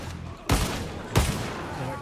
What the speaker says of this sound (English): It's a spark. Spark, right? To like ignite their thing.